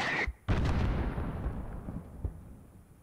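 Gunfire and explosions in Modern Warfare 2019 hitting an enemy mortar team, a sharp blast at the start followed by a long rolling boom that fades with scattered distant impacts.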